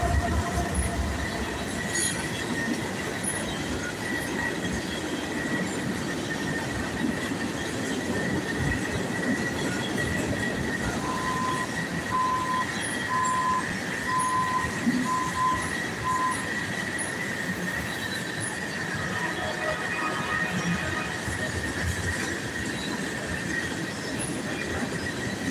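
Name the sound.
train passing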